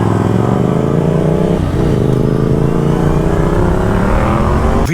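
Honda CBR 650 motorcycles rev and accelerate in a short informal race, a loud close engine roar climbing steadily in pitch with a brief dip midway, sustained without talk.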